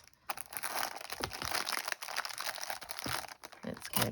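Crinkly packaging around a thrifted gift bought at a Sydney op shop is handled and unwrapped, giving close, irregular crackling and rustling bursts with faint voices in the background.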